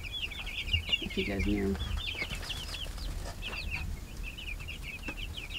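A small young chicken on a farm gives soft, repeated clucks and peeps in quick bursts at close range, while people speak quietly now and then.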